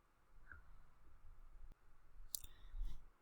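A single faint computer mouse click taps out in an otherwise quiet room, with a couple of soft ticks nearby.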